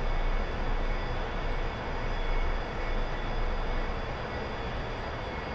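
The jet engine of an A-4E in a flight simulator game, slowing toward landing configuration, makes a loud, steady, broadband roar that holds almost constant throughout, with only slight swells in level.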